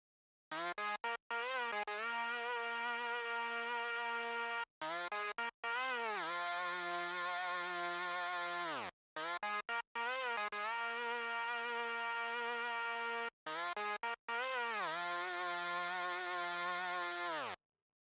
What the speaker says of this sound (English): this buzzing sound sine wave helps me accentuate the higher frequencies of